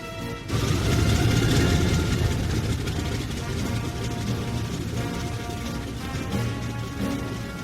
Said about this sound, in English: I started my engine and saw the others get theirs started.